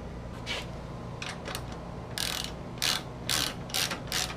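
Ratchet clicking in quick bursts while a bolt is tightened on a Polaris 900/1000 side-by-side door plate, close and fairly loud with short pauses between strokes.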